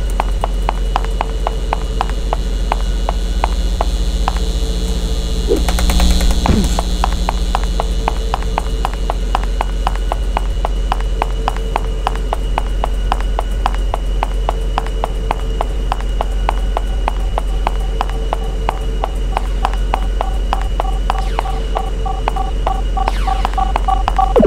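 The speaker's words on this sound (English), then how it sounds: "Do those sound familiar? Those are lasers." Laser fire from the video game Super Liam, a rapid, steady train of electronic pulses over a constant synthetic game drone, loud and unbroken for the whole stretch.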